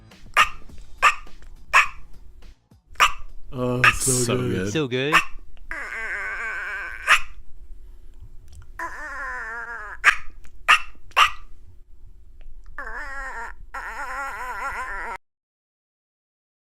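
A man imitates a chihuahua's bark with his mouth, several sharp yappy bursts in a row followed by a growly, whining run, then he speaks while others talk and laugh nearby.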